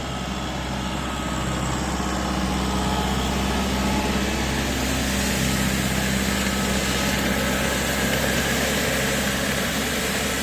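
Kubota M6040 tractor engine working a sandy field with a six-disc plough, a steady loud droning rumble running continuously without a break and no voices.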